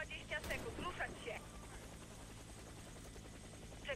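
A helicopter in the Warface game idles while awaiting evacuation, a steady low rotor drone persisting under bursts of radio voices and brief clicks.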